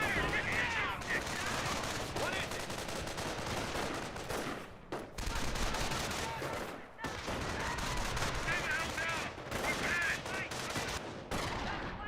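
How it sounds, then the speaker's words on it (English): Rattling gunfire and machine-gun bursts fill a Company of Heroes battle, dense and continuous with brief lulls, as a commentator talks over the action. "Sniper does take a shot there on the MG42."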